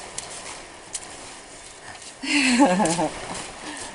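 Boots stomping through a wet cob mud mix of clay and straw, heard as soft, faint thuds at first, then a louder stretch where a voice talks over the squelching.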